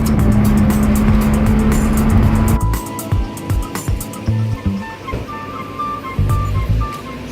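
A Lotus Exige S sports car drives on a Sunday morning, its engine droning loudly and steadily before dropping into a rougher, uneven rumble with bursts of revving and road noise.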